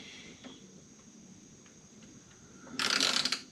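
A torque tool ratchets in a quick burst of clicks near the end while tightening a circuit breaker terminal to 25 inch-pounds during a sub-panel installation, after a mostly quiet stretch.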